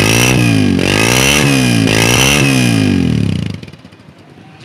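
A 2019 Honda CB125F 125cc motorcycle engine running loud and close, a steady buzzing drone with rhythmic revving swells before dropping away to a quieter idle near the end.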